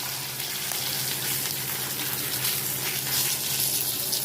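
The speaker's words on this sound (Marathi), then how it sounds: "हे बघा आता दोन्ही बाजूने भाजलेले आहे पापलेट." Pomfret fish sizzles in hot oil in a pan, a steady, dense frying hiss that stays loud and close throughout with no talking.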